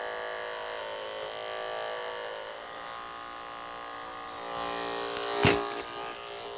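Electric hair clippers cutting a short taper fade, a faint, continuous close buzz with one brief sharper burst near the end.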